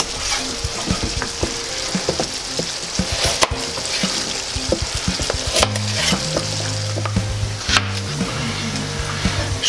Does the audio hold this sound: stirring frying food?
yes